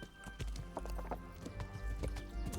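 Horse hooves clip-clop steadily while riding through a forest in the medieval game Kingdom Come: Deliverance, close and clear, with occasional snorts over a low ambient bed.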